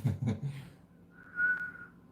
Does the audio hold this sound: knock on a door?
no